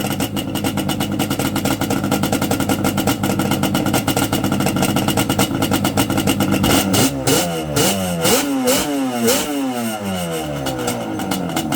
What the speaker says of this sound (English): it seems to idle pretty good once it gets a little temperature in it